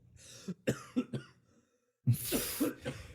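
Several short coughs in a quick burst, then a pause and a harsher, louder cough fit, close up with no talking.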